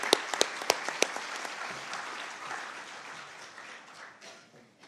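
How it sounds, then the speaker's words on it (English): An audience at a UN South-South cooperation expo opening ceremony applauds the Secretary-General, with a few sharp close claps at the start that spread into broad, steady clapping before slowly fading. "a round of applause for our Secretary"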